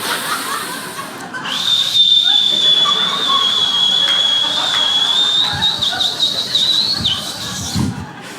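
A thin, high, wavering whistle held for several seconds, a voice imitating a whistling nose hair, with a soft chuckle around it.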